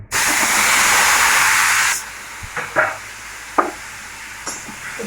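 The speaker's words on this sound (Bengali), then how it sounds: "এবার কপিগুলো ভাজা বসিয়ে দেবো।" Cauliflower pieces drop into hot oil in a pan, setting off a loud burst of hissing sizzle for about two seconds that settles to a quieter fry with scattered clinks and taps.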